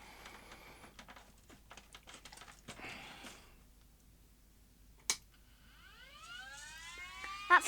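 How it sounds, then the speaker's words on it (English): A Panasonic S-VHS video recorder (AG-4700/NV-HS1000) with a booting fault gives a rising electronic wail that sweeps upward in repeated tones after scattered clicks and taps, then a sharp snap, fairly faint and without speech. "That sounds like an air raid siren"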